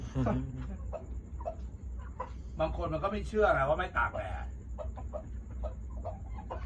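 Chickens clucking at a Thai home, with people talking over them throughout; the birds stay close and fairly loud, with a burst of busier clucking in the middle.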